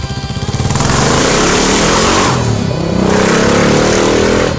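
A Kawasaki KLR 650, a 1990s motorcycle, runs loud and close, its engine revving with a steady rough drone, easing briefly near the middle before building again.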